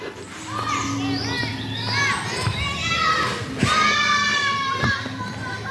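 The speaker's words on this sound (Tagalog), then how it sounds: "Ang daming bata naglalaro." Many children shout and chatter while playing nearby, a lively overlapping clamor of young voices.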